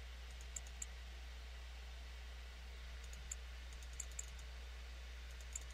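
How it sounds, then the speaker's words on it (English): Faint, sparse clicks of a computer keyboard and mouse during a Dark Souls II session, scattered irregular taps over a steady low hum, with no talking. "I'm using the mouse and keyboard."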